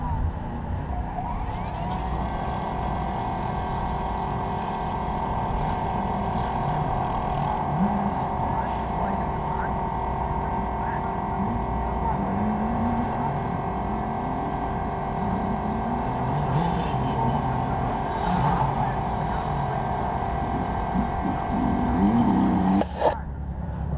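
A SunJoe battery-powered pressure washer with a special tip sprays continuously, a steady motor whine with tonal hum and hissing spray running for the whole stretch, fairly loud and close.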